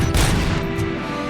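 Gunfire in the video game RoboCop: Rogue City: a quick, loud cluster of sharp shots, with one or two cracks standing out over a dense, rumbling backdrop.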